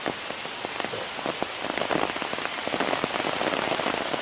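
Wind-shaken water drips and patters from trees in the woods like steady rain, a dense scatter of close, soft taps that grows slightly busier and louder toward the end, with no voices.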